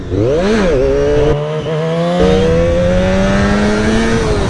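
Honda VFR400 motorcycle engine revs loud and close in a long first gear, a quick blip then rising, sustained acceleration with a steadily climbing whine throughout.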